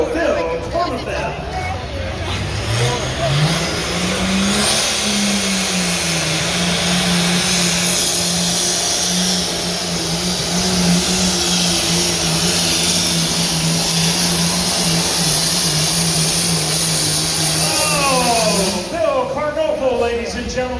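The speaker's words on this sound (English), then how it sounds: "if you like the classic super stock tractors, this is the last one" A classic super stock pulling tractor roars down the track at a county fair tractor pull in Lisbon, Ohio. The loud engine holds a sustained, rising drone for about twenty seconds, with an announcer talking over it.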